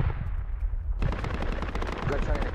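Rapid bursts of gunfire crack out in the military shooter Project Reality, a muffled stretch giving way to sharp, loud repeated shots for the remainder.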